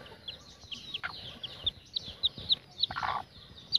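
Newly hatched Raptor and Boston gamefowl chicks peep in a rapid series of short, high, bright chirps, fairly close, with light rustling between the calls.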